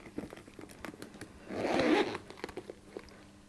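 The zipper on a Coach Rowan handbag is drawn in one smooth, close rasping pull lasting about half a second, set among small tapping and handling noises of the bag.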